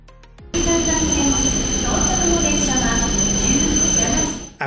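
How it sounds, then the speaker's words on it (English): Shinkansen bullet train rushing through Takasaki station, a loud steady roar with high-pitched whining and wheel squeal that starts abruptly and holds for several seconds before fading. "Takasaki station is also a great location for spotting passing Shinkansen trains."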